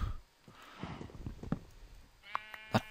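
A Minecraft cow lets out a couple of short, bleating moos near the end, following quieter game footsteps and small clicks.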